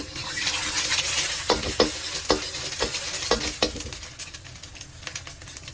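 Garlic oil sizzles steadily in a pan for pad thai with shrimp, while a spatula scrapes and clicks against the metal in quick bursts, close and fairly loud, with no speech.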